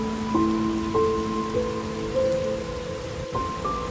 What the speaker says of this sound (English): Fresh rain dropping, fresh rain dropping.